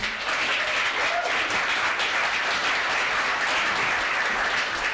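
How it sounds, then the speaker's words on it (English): A crowd applauding, dense steady clapping that fills the whole stretch, loud and even without letting up. "Let's give her a round of applause."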